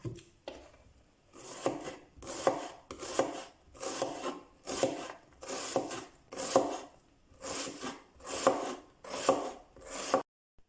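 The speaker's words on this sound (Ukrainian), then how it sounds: "Якщо ж більша, така, як у мене, розрізаємо на 4 частинки." A knife chops an onion cut into quarters on a cutting board for a no-sterilization winter salad, a steady run of about eleven crisp, rasping strokes at an even rhythm, close and clear with no talking.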